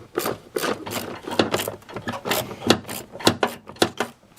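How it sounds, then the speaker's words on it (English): A 7/32 socket wrench ratchets on small bolts of a Chevy Blazer S10 heater blower motor, a steady run of quick clicking strokes up close, rhythmic and fairly loud throughout. "we're going to remove the rest of these little bolts here, the same size socket"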